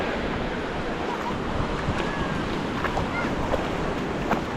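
Surf rolling onto the beach at Gokarna, a steady wash of breaking waves with wind buffeting the microphone, continuous and fairly close with no voices over it.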